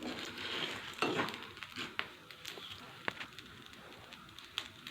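Sago pearls frying in a pan give a soft sizzle, with a spoon scraping and tapping the pan in irregular strokes, close and fairly quiet.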